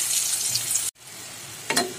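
Eggplant slices frying in oil make a close, even sizzle that cuts out abruptly, then returns quieter with a short flare of crackling near the end.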